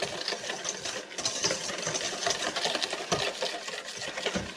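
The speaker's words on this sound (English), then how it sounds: "So we're gonna add in the cream and stir. We're gonna stir continuously." Cream being stirred continuously into egg yolks for crème brûlée, a steady close scraping and swishing of a utensil in a bowl that runs without pause, with no voices.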